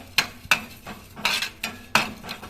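Coriander seeds, fenugreek and peppercorns dry roasting in a pan, heard as several sharp, irregular stirring clinks and scrapes of a utensil against the pan, close and moderately loud with no talking.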